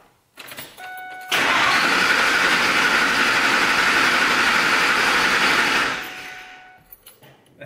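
A car engine cranks with the throttle held wide open and the fuel injectors disabled, a loud, steady starter churn lasting about five seconds without the engine catching, then winding down to quiet.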